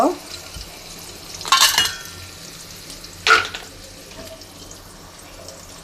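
Chopped onion drops into hot oil in a pan. Two short bursts of sharp sizzling flare up a couple of seconds apart over a quiet background.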